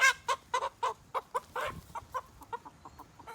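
Chickens at a backyard coop cluck in a quick series of short, sharp calls, several loud ones first and then softer, fainter clucks, with no talk.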